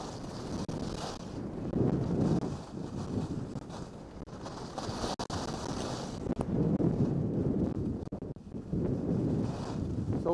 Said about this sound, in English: That wind blowing the ice